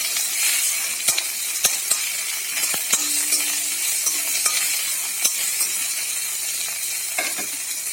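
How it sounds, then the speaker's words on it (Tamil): Onions sautéing with a little salt in a pan, a continuous bright sizzle broken by regular clicks and scrapes of a spoon stirring against the pan, close and clear with no speech. "வெங்காயம் சீக்கிரமாக வதங்குறதுக்காக கொஞ்சம் உப்பு சேர்த்துக்கலாம்."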